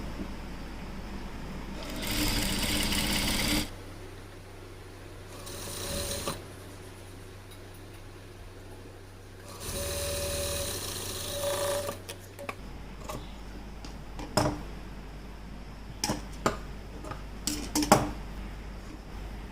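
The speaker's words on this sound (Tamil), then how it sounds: "ரெண்டாக மடித்து 1/4 இன்ச்சு இருக்கிறது போல் ஒரு தையல் போடணும்." A sewing machine stitches a blouse sleeve in two loud bursts of rapid whirring, separated by quiet pauses, followed by scattered light clicks and taps of fabric handling.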